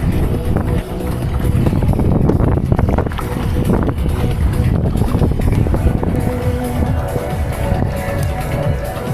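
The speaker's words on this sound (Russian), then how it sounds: "Ветер сильный сегодня, не как вчера." Strong gusty wind buffets the microphone with a loud, continuous roar, rough and close throughout.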